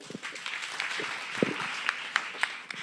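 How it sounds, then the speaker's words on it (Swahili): A classroom group claps briefly, a short patter of hands with a few sharper single claps near the end, moderately loud and close, with no talking over it. "Makofi."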